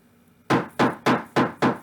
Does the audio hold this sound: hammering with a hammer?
yes